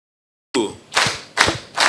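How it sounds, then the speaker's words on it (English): After a moment of silence, an audience at the close of a session claps in rhythm. Three distinct, evenly spaced bursts of clapping sound moderately close, with no talking. "I want us to clap for ourselves"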